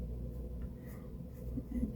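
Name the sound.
black pastel pencil drawing on paper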